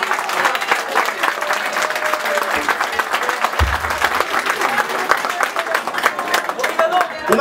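Big round of applause for the jury at a Morna dance contest in Cape Verde, a large audience clapping densely and steadily throughout, loud and close.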